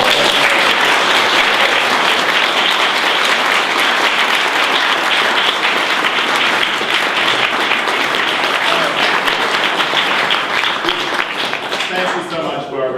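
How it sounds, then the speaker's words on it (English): An audience claps loudly and steadily after a talk, with dense sustained applause filling the room and tapering slightly at the very end. "Can we get a round of applause?"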